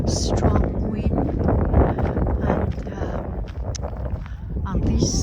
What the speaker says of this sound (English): on this direction there is a strong wind